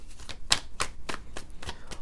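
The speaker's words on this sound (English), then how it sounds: "I shuffle until a card comes out." Tarot cards shuffled by hand in a steady run of crisp riffling slaps, about one every quarter second, close and moderately loud with no talk.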